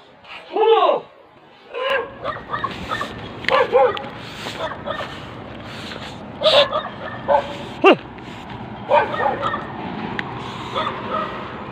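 Dogs barking and yipping outdoors at night, several short bursts and a high whining yelp, fairly close and loud, with people talking in between.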